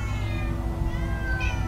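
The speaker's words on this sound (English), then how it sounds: "So many cats." Several cats meowing in Minecraft Story Mode, overlapping drawn-out mews over a low background hum, fairly close and continuous, with no speech.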